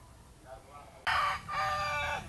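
A gold-feathered breeding rooster over three years old crows once, a loud near cock-a-doodle-doo with a stretched final note, after a quieter stretch with faint background sound.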